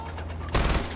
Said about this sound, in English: I shot you.